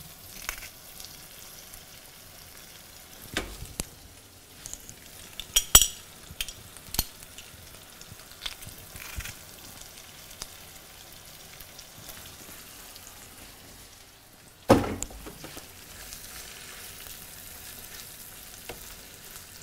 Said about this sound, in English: And this is where my garlic goes in.